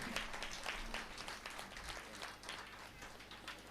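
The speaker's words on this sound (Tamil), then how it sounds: "பேராசிரியை சாத்தூர் ரோகிணி அவர்களை ஒரு அரங்கம் நிறைந்த கைத்தட்டலோடு பாராட்டி அழைக்கிறேன்." Faint, distant applause from the audience at a Tamil comedy debate show, a steady patter of clapping in a large hall, fairly quiet and continuous.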